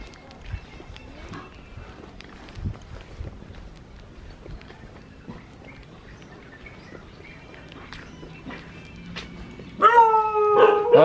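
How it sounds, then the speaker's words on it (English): Dogs at local homes in Bali bark at visitors, a few faint scattered yaps early on, then a close burst of loud barking and howling at the end, with voices and footsteps around. "The dogs don't like us."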